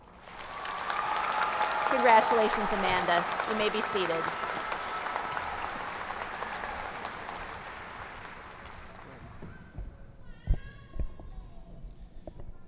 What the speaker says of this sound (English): Please recognize her and the excellence she represents with your applause.